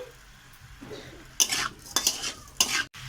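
A cumin, coriander and black pepper spice mix being stir-fried in a pan, with quiet frying underneath a few sharp, loud spoon scrapes and clatters near the end.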